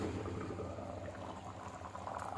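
Fish curry made with ripe tomatoes simmering in a covered pot, a faint steady bubbling and boiling murmur heard on its own without talk.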